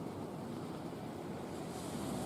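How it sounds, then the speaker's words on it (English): Sea waves wash against the shore at Llandudno on the Welsh coast in the early morning, a steady soft hiss of surf with light wind rumble on the mic and no voices. "The sea lapping against the shore,"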